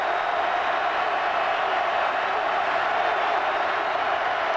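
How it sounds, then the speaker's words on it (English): A packed football stadium crowd at a Tennessee vs Georgia college game roars loudly and without a break, a broad, sustained wall of cheering with no gaps. "The crowd is going nuts."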